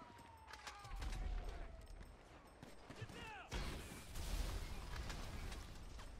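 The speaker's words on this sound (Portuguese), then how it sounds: "Tomando tiro da polícia." Police gunfire crackles in GTA 5 Online in rapid overlapping bursts, loud and near, over game engine rumble and mechanical noise, with a sharp jump in intensity midway and brief whooshing effects.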